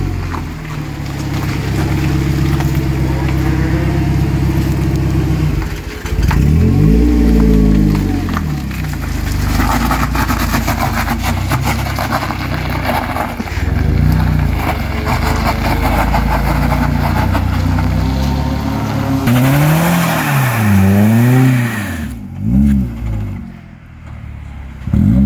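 A Mercedes CLK with a welded differential accelerates and turns, its engine droning loudly and rising and falling in pitch over repeated surges, with tires scrubbing and chirping through the turns and brief voices in the car.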